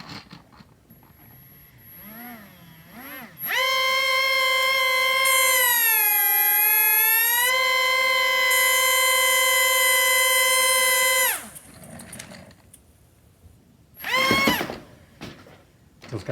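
An electric motor on a small, inexpensive RC Boeing 747-400 model plane spins up into a loud, whining tone. It holds for several seconds, rises in pitch, then cuts off, followed by a brief second burst.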